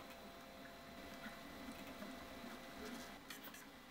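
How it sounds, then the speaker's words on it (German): An Artillery Sidewinder X2 3D printer with a geared direct-drive extruder prints, giving a faint, steady whir with soft stepper-motor hums and light clicks near the end. "der Druckauftrag gelingt ohne dass das Filament den Extruder verstopft"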